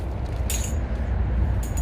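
Metal pipe clamp fittings for building a vinyl greenhouse are handled, giving two short, bright metallic clinks spaced apart over a steady low background rumble.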